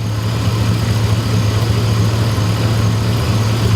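A steady, low engine idle rumbles close by without pause, a constant mechanical drone with no voices over it.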